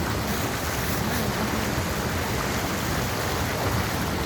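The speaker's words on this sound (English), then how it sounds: "Oh, now he's going for a swim." Steady broadband rushing of a river with splashing as a puppy swims in the water, loud and continuous with no speech.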